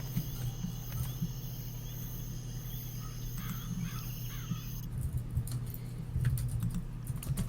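Keyboard typing runs steadily throughout, clicks fairly close and continuous over a droning low hum, with a faint bird call in the background.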